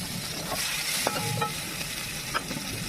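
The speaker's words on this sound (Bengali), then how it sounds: "এরপর গাইস আলু ভাজছে, ডিমের সঙ্গে একসঙ্গে আগে ডিমগুলো ভেজে নিল" Potatoes sizzle in a pan with fried eggs, a steady frying hiss punctuated by a few light clinks and scrapes of stirring.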